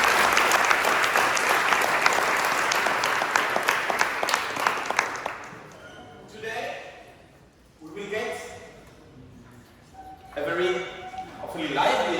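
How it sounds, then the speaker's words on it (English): An audience at a psychology society keynote in Orléans claps in dense, sustained applause for the organizing team for about five seconds, then it stops abruptly and a single voice begins speaking in the quiet room. "I would like to give a applause for the organization team"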